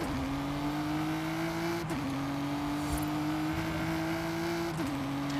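A car in Forza Horizon 5 accelerating flat out, a steady loud engine drone rising in pitch through the gears, with two brief dips at the gear changes.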